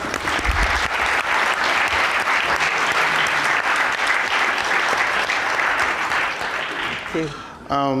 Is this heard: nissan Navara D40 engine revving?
no